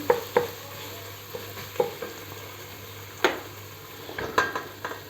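Tomato paste frying in a pan for an okra stew, a spoon scraping and stirring it in several distinct strokes over a faint steady sizzle, close and fairly quiet.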